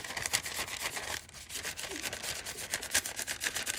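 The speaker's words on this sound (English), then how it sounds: "I'm just lightly burnishing side to side over the curve" Close, rhythmic scratchy rubbing strokes go back and forth quickly and steadily as paper is burnished side to side over polymer clay on a curved bangle form.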